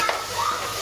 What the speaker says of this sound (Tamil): இப்போ பாருங்கள், சிக்கன் வதங்கிட்டுருக்கு